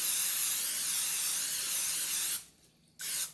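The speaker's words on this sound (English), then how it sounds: "spray down my pan here, grease it up, and this is canola oil spray." A continuous hissing spray from an aerosol can of canola oil greasing a pan for about two seconds, a short pause, then another quick burst.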